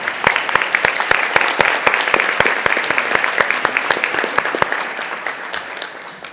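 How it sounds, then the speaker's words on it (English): Conference audience applauding at a 2024 State of Inclusion event, dense clapping with sharp individual claps standing out, loud and close, sustained for several seconds before tapering off slightly at the end. "give yourselves a round of applause"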